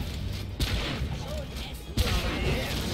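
Gunfire and a grenade blast from a player's weapon in the video game Orcs Must Die! 2: two heavy booming bursts land close together among a steady run of rattling shots, with a dense battle din underneath.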